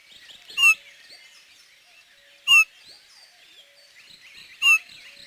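Eurasian bullfinch, a male with red throat, giving three short, clear piping calls spaced about two seconds apart, near and distinct over a faint background of other birdsong.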